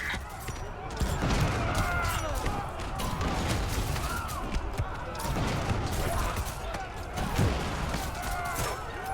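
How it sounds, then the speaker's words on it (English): Gunfire from units in the real-time strategy game Dune Spice Wars, a dense crackle of overlapping shots and small impacts running continuously at moderate volume, with a voice talking over it. "Snipers are taking pot shots at my gunners while the melee is very much winning in my favor."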